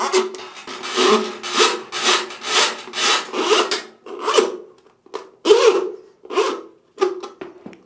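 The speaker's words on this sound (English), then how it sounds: "Now, push the cable back in and it will wind itself inside the container." A steel drain auger snake cable is pushed back into its canister drum, giving a run of rhythmic scraping, rasping strokes that grow choppier and more spaced out toward the end, close up with no talk.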